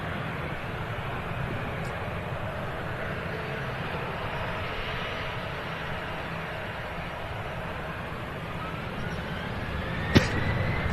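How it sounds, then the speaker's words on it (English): A TAP Express airliner taking off, its broad jet and engine roar filling the scene steadily at moderate distance, with a rising whine building underneath and a brief sharp click near the end. "That Tap Express is going to start taking off soon."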